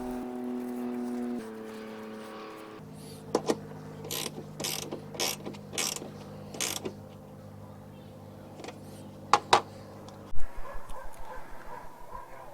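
Ratchet wrench snugging a 10mm metal bolt that holds a plastic headlight part on a Dodge Avenger, heard as bursts of quick clicking strokes, close and crisp, ending in a fast rapid run of clicks.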